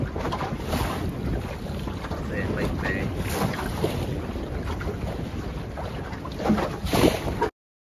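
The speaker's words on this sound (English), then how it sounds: "That's windy" Strong wind buffets the microphone in gusts over rushing water while sailing on open water, loud and close, cutting off abruptly near the end.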